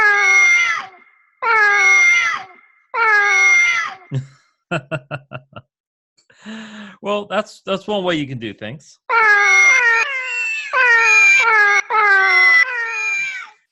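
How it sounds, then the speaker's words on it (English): Several cat meows layered together from a sampler, loud bursts of repeated mewing in rhythmic clusters with a choppy stuttered stretch in the middle, then dense overlapping meows, and someone speaks briefly. "definitely sounds like feeding time for somebody with a bunch of cats"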